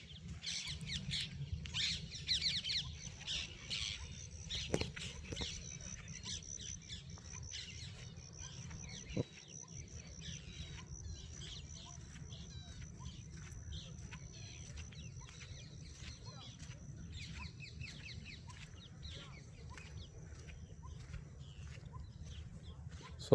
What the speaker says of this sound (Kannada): ಗಿಳಿಗಳ ಸೌಂಡು.